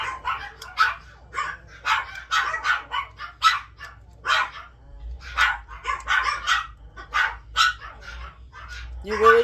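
Several dogs bark and yip in repeated bursts close by in a home kitchen, with a few whimpers mixed in and a person's voice breaking in over the noise.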